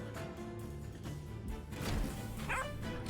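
A dog barks and yips in short bursts over a busy game soundtrack of music and effects, fairly loud and mixed into the background clutter.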